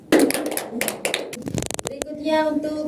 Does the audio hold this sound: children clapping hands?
yes